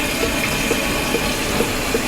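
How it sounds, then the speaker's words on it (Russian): Distillate falling from a distillation column during collection of the heads while making bourbon, a steady run of light drips about two per second over a constant hiss and background hum, with no talk. "Слышны даже капельки, громко капающие."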